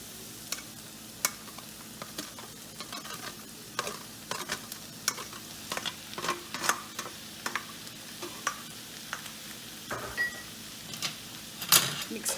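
Spoon stirring cooked pasta through sauce for a vegetable cheesy masala pasta in a pan, soft scrapes and taps in an uneven rhythm, quiet and close, with a faint low hum beneath.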